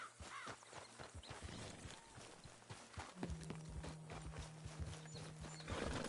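Clip-clopping horse hooves in Red Dead Redemption 2 tap in a steady walking rhythm, with a brief whinny and a low sustained hum partway through.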